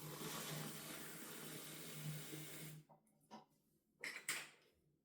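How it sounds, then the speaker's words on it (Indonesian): Tap water pours steadily into a Mito WM1 portable washing machine tub, a close rushing stream that stops abruptly, followed by a few quiet clunks and splashes. "Aku isi dulu ya airnya"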